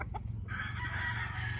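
Fighting roosters clucking and crowing close by on a farm, starting with a few short clucks and then a sustained crow, with no voices.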